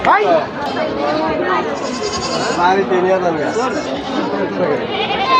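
Goats and young goats bleat loudly and repeatedly at a busy livestock market in Tangail, Bangladesh, calling over one another while people talk and bargain close by.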